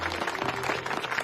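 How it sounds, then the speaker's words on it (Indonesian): An audience claps on request, a dense spread of hand claps that runs steadily through the whole short moment without a break. "Mana tepuk tangannya?"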